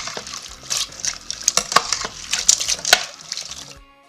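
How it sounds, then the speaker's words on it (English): Rice and beans being stirred together in an Instant Pot, a spoon scraping and clinking against the metal pot in a busy run of close, wet knocks and scrapes, ending abruptly in quiet. "So once that's done, mix it all together."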